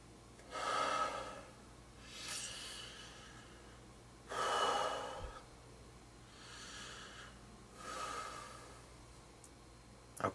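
Slow, deep breaths taken during a light meditation, four or five long inhale-and-exhale cycles spaced a couple of seconds apart, close and fairly soft with quiet pauses between them and no talking.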